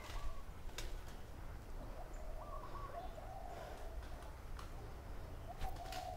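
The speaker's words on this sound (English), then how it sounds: "Big birds." Large birds cooing outdoors, soft repeated dove-like calls coming and going at a moderate distance over a steady low background hum.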